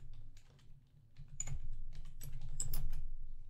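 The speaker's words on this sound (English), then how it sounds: "As a matter of fact, I'm going to type it in." Quick bursts of typing on a computer keyboard, close and crisp key clicks in an uneven rhythm over a low steady hum.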